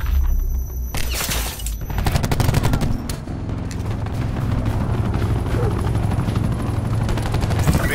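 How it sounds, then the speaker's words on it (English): Enemy attack helicopter thundering overhead in a military shooter game, loud rotor thump mixed with heavy bursts of gunfire and explosions, dense and continuous battle noise throughout. "Enemy attack chopper above."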